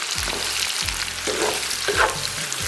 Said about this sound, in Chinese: 给它煸炒炒香